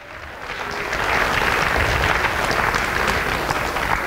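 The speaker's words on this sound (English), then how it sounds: "Clap your hands to the glory of the Lord." A church congregation at a Sunday morning anniversary service claps their hands together, the sound rising quickly into a dense, sustained wash of applause filling the room.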